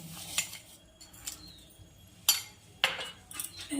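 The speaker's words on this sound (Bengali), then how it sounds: "এবার ভালো করে নাড়িয়ে নিব" A spoon stirs boiled milk with sugar in a pot for dudh puli pitha, making several sharp clinks and scrapes against the metal at uneven intervals over a quiet background.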